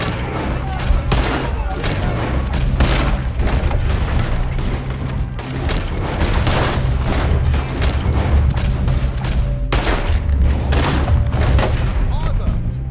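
A loud, sustained gunfight in Red Dead Redemption 2 in Saint Denis, with dense overlapping shots and heavy booms rolling continuously throughout, mixed with game sound and shouting.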